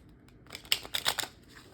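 A small deck of tiny Lenormand fortune-telling cards being shuffled by hand, a faint quiet stretch followed by a short burst of crisp riffling and flicking.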